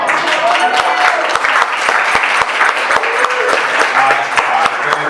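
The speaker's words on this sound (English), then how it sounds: "Another round of applause." Steady, loud audience applause at an EcoForester of the Year award event, dense clapping sustained throughout with a few voices and whoops mixed in.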